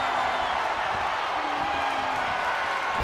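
A wrestling arena crowd in the WWE 2K26 game roars in a dense, steady wash of cheering that fills the whole stretch without letting up.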